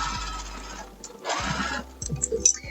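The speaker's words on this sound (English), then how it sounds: "Okay, let's sew a side seam." A home sewing machine stitching a side seam of a wrap dress, a brief motor whir followed by a fast, even run of stitching clatter close by, with a few light clicks around it.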